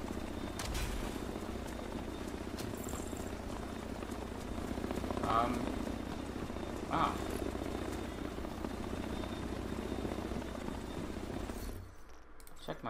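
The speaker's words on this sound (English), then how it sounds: "That helicopter's loud." Steady rotor-like helicopter drone from The Division 2 fills the background throughout, with a brief spoken exclamation and occasional light clicks over it.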